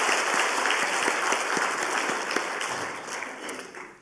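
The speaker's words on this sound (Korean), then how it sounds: "감사와 격려의 박수 다시 한번 하겠습니다" A church congregation applauds during a Korean Wednesday evening service, a thick, even wash of many hands clapping that holds steady for several seconds before fading.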